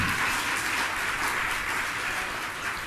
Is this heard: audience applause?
yes